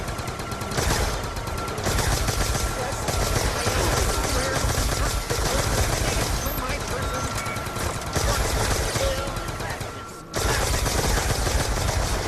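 Weapons fire while fighting zombies in a video game with an RPG, heard as a dense, loud stream of rapid repeated shots and mechanical clatter that runs almost unbroken, with one short gap.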